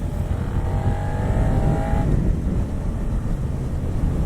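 A Suzuki SV650 V-twin motorcycle engine rumbles loud and close, with a steady low drone and a short rising whine that fades after a couple of seconds, no talking.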